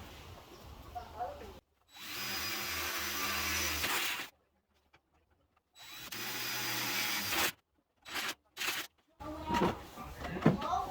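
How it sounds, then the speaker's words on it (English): A power drill drives screws into a galvanized metal raised garden bed, two long whirring bursts with short pauses between, followed by several shorter clicks and quick bursts, close and loud. "we'll drill the remaining two and finish it off"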